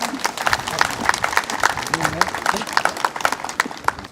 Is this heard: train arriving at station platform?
no